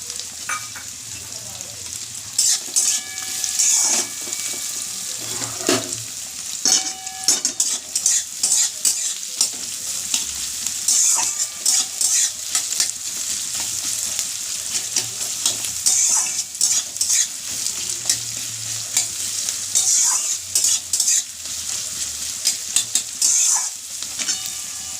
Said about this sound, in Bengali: তেল গরম হয়ে আছে, পেঁয়াজটা দিয়ে দিলাম।